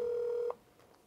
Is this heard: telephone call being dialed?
yes